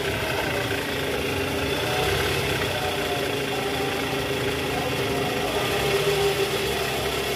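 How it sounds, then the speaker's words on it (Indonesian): A Toyota Alphard's 2AZ four-cylinder engine, freshly fitted with a new balancer shaft, idles with a steady, even hum and light vibration, heard up close and continuous with no talk. "suara mesinnya ini jauh lebih halus dibanding"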